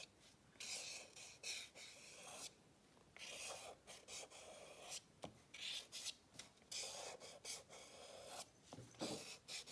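A pencil sketches a tree shape on paper, with close, scratchy rasping strokes that come in short repeated bursts with brief pauses between them. No one speaks.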